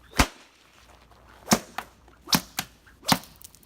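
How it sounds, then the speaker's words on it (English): A buggy whip cracks several times outdoors, sharp loud snaps spaced about a second apart with a couple of smaller cracks between them. "So now we're moving on to a buggy whip."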